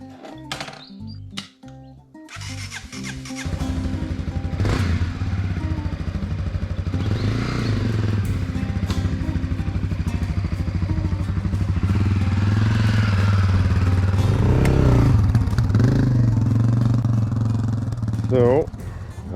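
Motorbike ridden through the Australian outback bush, its engine starting with some clatter and then droning steadily up close. Someone speaks briefly near the beginning.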